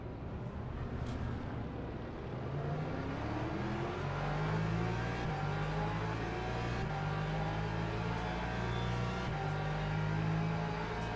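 A Porsche race car engine in a racing video game drones and revs steadily, its pitch stepping up through the gears with a constant loud whir throughout and no voices.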